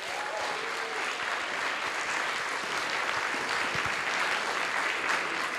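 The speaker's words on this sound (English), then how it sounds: "Give yourselves a round of applause." Steady, dense applause from a luncheon audience at a political gathering, close and sustained without pause for several seconds, with no speech over it.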